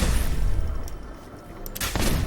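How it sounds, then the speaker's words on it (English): A gamma gun fitted with a Signal Splitter shotgun muzzle mod fires in Fallout 4, giving heavy booming blasts with rumbling tails, a loud shot at the start and another burst near the end, separated by a short lull. "It's a muzzle mod for the gamma gun that basically turns it into a shotgun"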